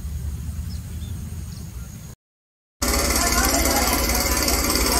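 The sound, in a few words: Quick Kasuari cultivator tilling soil for melon beds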